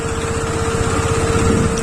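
A motorbike engine runs loud and close on a hilly off-road track before climbing uphill, a steady buzzing idle with fast regular pulses throughout.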